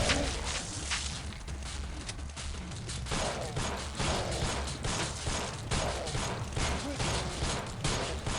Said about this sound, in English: Hunting shotgun is still great.